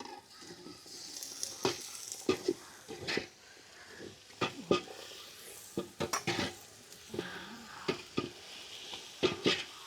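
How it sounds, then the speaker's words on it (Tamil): Tomatoes sautéing in a home kitchen pan, a steady soft sizzle broken by repeated sharp scrapes and clinks of a spoon stirring against the metal. "தக்காளி நல்லா வதங்கணும்."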